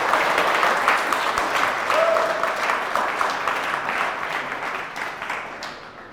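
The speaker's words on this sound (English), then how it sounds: "Round of applause, please, for Lucas" A live pitch-event audience gives a presenter a steady round of applause, dense and even, tapering slightly toward the end with no talk over it.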